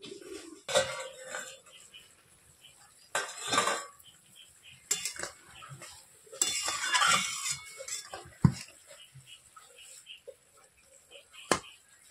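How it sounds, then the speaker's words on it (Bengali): Pot lid lifted off fish cooking with potatoes, then metal clanks and clatters of lid and utensils against the pot, bursts of soft sizzling between sharp knocks, nearby and intermittent. "মাঝখানে একবার ঢাকাটি খুলে দেখে নিচ্ছি"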